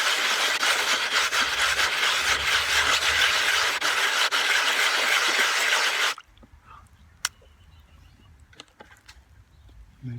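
Soft rock rubbed by hand against abrasive grit, a steady close scraping for about six seconds that stops abruptly, leaving near silence with a few faint clicks.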